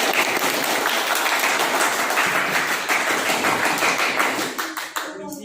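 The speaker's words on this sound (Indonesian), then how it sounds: "Ya, tepuk tangan dulu." A classroom of students applauds after a group presentation, a loud continuous patter of clapping hands that thins into a few last claps and fades at the end.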